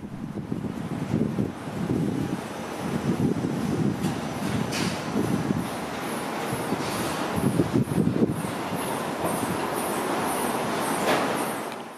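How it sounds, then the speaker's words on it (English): A Moscow Monorail train passes at full volume near the main gate of VDNKh, a broad steady rumble with wind noise swelling and rhythmic wheel thumps sounding throughout, loud and close with no voices. "here comes the train, at the full volume"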